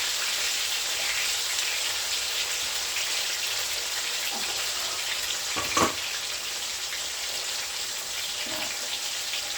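Chicken frying in a pan for brown stew chicken gives a steady, bright sizzle that hisses throughout, with a brief clatter partway through and no speech.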